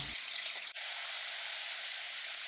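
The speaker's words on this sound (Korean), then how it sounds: "달궈진 팬에 오리고기를 먼저 볶으면 고기에 기름이 나와 다른 기름을 사용하지 않아도 돼요." Duck meat stir-frying in a heated pan in its own rendered fat, with no added oil, giving a steady, close, bright sizzle that runs unbroken apart from a momentary dip.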